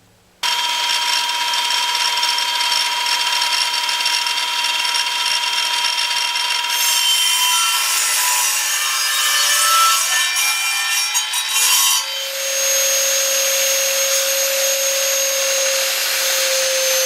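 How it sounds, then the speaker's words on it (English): A power saw cuts wooden window trim for a small bunny house, a loud continuous whining buzz that shifts in pitch partway through and holds steady to the end, with no talking. "So I'm going to go ahead and set my saw up, trim those out"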